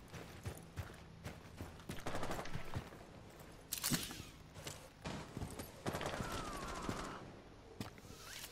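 Gunfire in Rainbow Six Siege: repeated sharp shots and short automatic bursts, some close and loud, others fainter, with scattered impacts and thuds between them.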